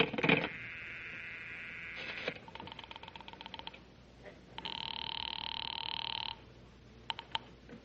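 Old rotary telephone dialed as a radio comedy sound effect: several bursts of ratcheting clicks and whirring returns of the dial, one long steady electronic tone in the middle, then a few sharp clicks at the end, close and clear with no talk.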